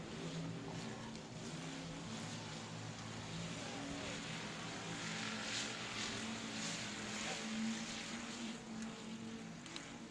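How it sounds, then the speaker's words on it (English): Pure stock race cars in a heat race on a South Texas speedway oval, their engines a steady distant roar that holds throughout with no break or voices. "We're green flag racing with heat race number 2."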